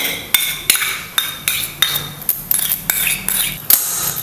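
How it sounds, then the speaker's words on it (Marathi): A spoon stirs semolina roasting in ghee in a pan for Diwali rava laddu, giving a steady run of sharp metallic clinks and scrapes about every half second, close and fairly loud with no talking. "आता आपल्याला रवा आहे ना चांगलासा भाजून घ्यायचं थोडंसं कलर बदलूसपर्यंत"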